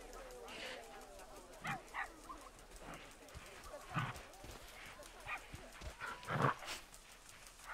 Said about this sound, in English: This Arctic wolf is about to have her puppies